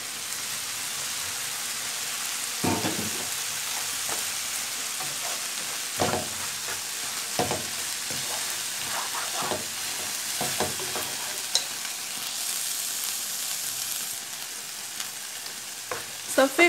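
Crêpe filling ingredients sautéing in a pan, a steady bright sizzle and hiss running throughout with occasional soft stirring clicks and taps.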